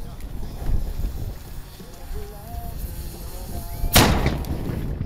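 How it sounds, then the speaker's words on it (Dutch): A single loud, sharp carbide cannon blast booms out near the end, following a stretch of low outdoor rumble and wind with faint voices in the distance, at a New Year's Eve tradition in Zeeland. "Voor een grote groep Zeeuwen blijft het karbietschieten met oudjaar een traditie."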